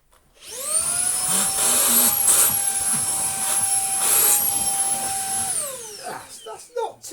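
A Beldray Roller cordless vacuum cleaner, freshly cleaned after a filter wash, spins up into a loud, steady high-pitched whine for several seconds, then winds down with a falling pitch, followed by brief clunks and handling noise.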